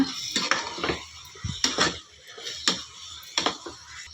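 A spoon clatters and scrapes against a pan while potato and cauliflower curry is mixed. There are about five or six separate stirring strokes in an irregular rhythm, up close, with no voices.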